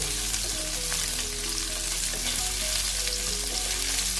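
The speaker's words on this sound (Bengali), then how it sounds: "দিয়ে আলুগুলোকে আমি ভালো মতন ভেজে নেব" Potato pieces frying in oil for a Bengali vegetarian ash gourd dish give a steady, loud, close sizzle that continues without a break, with faint stirring clatter and no voices.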